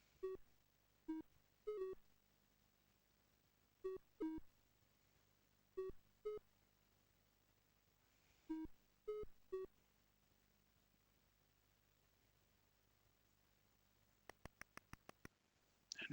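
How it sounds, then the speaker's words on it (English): Commodore 64 game Jinn Genie giving off short electronic beeps in scattered pairs and clusters, with a quick run of ticks near the end over a faint steady hum. "Nice little beeps."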